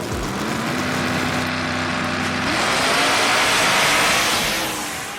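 A black Chevelle and a black Mustang with orange flames launch side by side in a drag race, their engines a loud steady roar close by that swells and holds before easing off.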